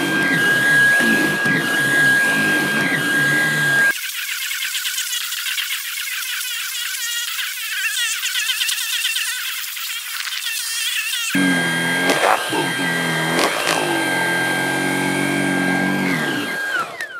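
A Dreame T30 cordless stick vacuum, 29.6 V with 27 kPa suction, runs over a pet-hair-matted carpet with a loud, steady motor whine and brushroll drone, dipping to a thinner, airy tone in the middle stretch before returning to full roar.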